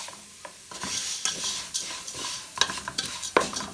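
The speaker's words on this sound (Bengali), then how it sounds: "লাড়তে লাড়তে ভাজা ভাজা, এটা ভাজা ভাজা করতে হবে।" A spoon scrapes and stirs rice frying in a hot pan for Egyptian rice, with a steady sizzle and irregular metallic clinks and scrapes close by.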